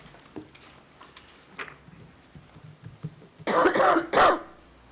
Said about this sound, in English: And an awful cough.